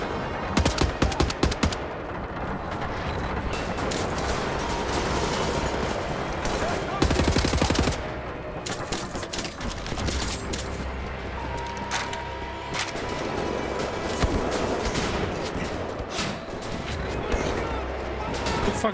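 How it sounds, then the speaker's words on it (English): Video game gunfire rattles in fast, loud automatic bursts with sharp single shots between them, close and nearly continuous, while a player talks over the shooting. "Where the fuck am I being shot from?"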